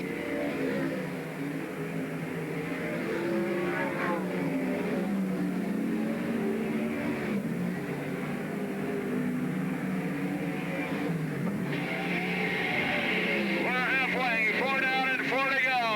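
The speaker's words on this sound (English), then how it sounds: "Off of 4, Fry will move up top, out of the way nicely, allow Saldana to get by on the inside" World of Outlaws sprint cars race at Central Washington State Raceway, their engines roaring and rising in pitch as cars pass close by, under continuous commentary from an announcer.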